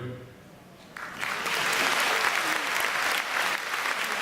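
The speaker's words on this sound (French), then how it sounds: "Madame, Monsieur, applaudissements pour Monsieur Paul Guiraud" An audience at a stage show in a congress hall breaks into applause. It starts quietly, then swells into loud, sustained clapping that continues to the end.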